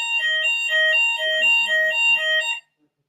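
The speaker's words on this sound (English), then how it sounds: "कहाँ fire alarm on थियो?" An electronic alarm sounds in a repeating pattern of bright alternating tones for a few seconds, loud and close, then cuts off abruptly.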